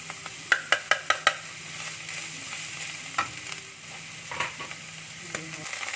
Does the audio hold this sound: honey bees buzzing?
no